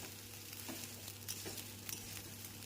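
Broken wheat (dalia) frying in a pan gives off a soft, steady sizzle, with a few faint stirring taps along the way. No one speaks.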